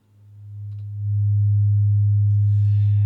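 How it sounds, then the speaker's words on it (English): A pure single sine wave from a v.osc software oscillator rises into a loud, steady low hum that holds unchanged, with a faint hiss appearing near the end. "you have, for instance, a single sine wave"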